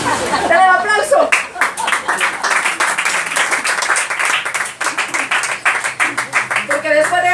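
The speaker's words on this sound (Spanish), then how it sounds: "Dale el aplauso." During a Spanish-language sermon, an audience claps loudly in a brisk, rhythmic burst of individual hand claps, with a voice speaking at the start and end of the clapping.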